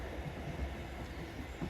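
A Merseyrail train pulls out of Cressington station, heard from a footbridge above as a faint, steady low rumble of wheels and motors with small thuds.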